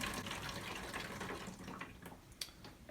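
Film fixer being poured into a paper fix container in a darkroom, a steady liquid stream splashing for most of the clip before thinning to a few drips and small knocks near the end.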